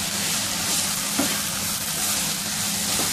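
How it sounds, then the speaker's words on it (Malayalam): Chicken spring roll filling sautéing in a pan over a high flame, giving a steady close hiss with a light stir or scrape partway through. "ഹൈ ഫ്ലെയിമിൽ ജസ്റ്റ് 2 മിനിറ്റ് ഒന്ന് സോട്ട് ചെയ്യാം."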